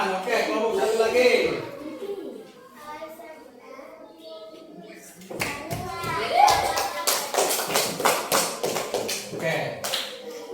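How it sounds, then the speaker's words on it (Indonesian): Classroom students clap together in a loud burst of rapid, dense claps that follows a stretch of children's chatter and talk, with the clapping running steadily to the end. "Oke, tepuk tangan"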